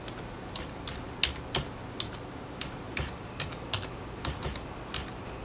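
Keys on a computer keyboard click in an uneven run of light, quiet taps as words are entered for a crossword, each keystroke a separate crisp tick.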